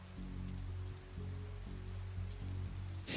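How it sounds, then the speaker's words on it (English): Rain pouring against a window: a dense, even wash of drops at steady volume with a low hum layered beneath, continuous and without any voices. "You hear the rain pouring against the window"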